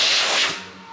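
Wet color sanding on the rear quarter panel of a 1969 VW Beetle convertible makes a close, steady abrasive hiss and rub that fades slightly toward the end.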